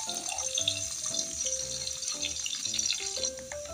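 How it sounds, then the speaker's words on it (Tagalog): Garlic and then onion sautéing in oil in a pan for chop suey, a steady close sizzle and crackle with soft clinks of utensils stirring, no voices. "Igisa ang bawang. Sunod natin ilagay ang ating sibuyas."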